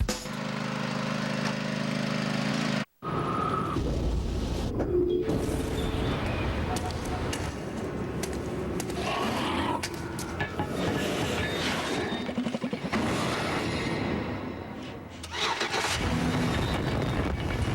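Chevy Impala with a 303-horsepower small-block V8 in a television advert: a short silent gap, then an engine starting and a sustained driving sound mixed with other broadcast sounds.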